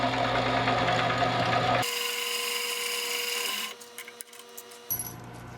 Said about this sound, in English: Then use a finish drill at a slower spindle speed to take it to size.